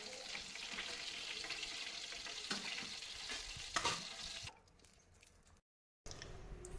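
Banana chips fry crisp in hot oil, a fizzing sizzle with metal scoop scrapes and clinks that fades to near quiet, drops out briefly and then returns.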